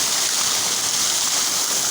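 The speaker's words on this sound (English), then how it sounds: "sensory garden water fountain. It's a good, nice place, and you see the sound of the water." Water from a fountain in a sensory garden splashes and rushes in a steady, loud, continuous stream, with no pause or voices over it.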